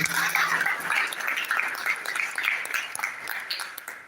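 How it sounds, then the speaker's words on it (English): Audience applause for a consultant doctor at a mental health awareness event, a dense patter of clapping that starts strong and gradually fades, with a brief tone at the start. "Please round of applause."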